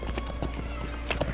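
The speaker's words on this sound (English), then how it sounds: "Oh, look at all these white horses." White horses in the Lord of the Rings Online game clip-clop in quick irregular hoofbeats, with a short whinny near the end, moderately loud and without talk over them.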